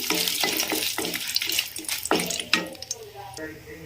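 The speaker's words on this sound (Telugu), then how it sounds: "10 వరకు ఎండుమిర్చి కూడా తీసుకొని వేయించుకుంటున్నాను నేను." Dried red chillies, about ten of them, fry in a pan for a Telugu peanut and mint chutney, giving soft crackling and sizzling broken by repeated stirring scrapes, with a few sharper clatters at close range and no one talking.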